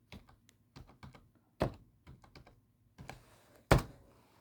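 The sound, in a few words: typing on computer keyboard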